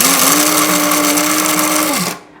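A Capresso electric coffee grinder grinds coffee beans at home, a loud steady motorized whir that holds for about two seconds before cutting off and winding down abruptly.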